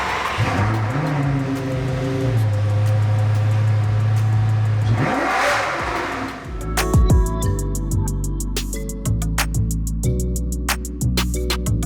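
A Lamborghini engine revs hard on the road in rear-wheel drive, rising in pitch through a long pull, then shifting into a harsher, crackling, rapidly pulsing roar, loud and close.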